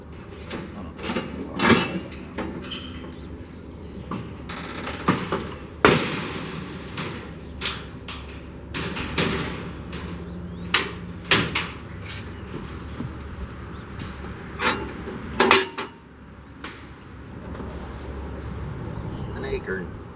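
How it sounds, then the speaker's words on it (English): A metal trailer gate is opened by hand, giving sharp clanks, rattles and bangs scattered over about twenty seconds, with someone talking between the impacts. "I gotta open this here trailer gate."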